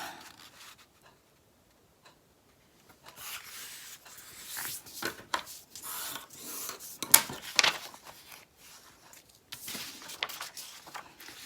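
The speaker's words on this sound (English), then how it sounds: "So let's fold these in half." Paper ephemera holders are folded in half with soft rubbing and creasing strokes, arriving in irregular bursts after a quiet pause, close by and fairly faint, with a few sharper scrapes in the middle.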